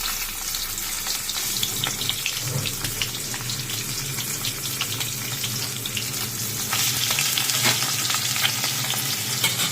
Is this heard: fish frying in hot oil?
yes